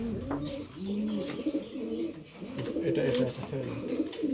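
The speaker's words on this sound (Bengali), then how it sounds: "খুবই ভালো কবুতর।" Several pigeons coo in overlapping low phrases inside a breeding loft, steady and close, with a faint voice and light chirps mixed in.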